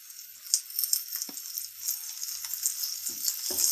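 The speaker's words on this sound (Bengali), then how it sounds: "এবার আমরা ধুয়ে রাখা গুঁড়া মাছগুলো এখানে দিয়ে দিব।" Small washed fish go into a pan of frying onion and garlic, raising a steady, close hiss of sizzling oil marked by a few soft knocks and rattles.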